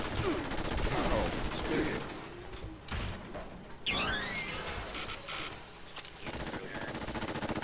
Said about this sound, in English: Could you stop shooting the crap out of me?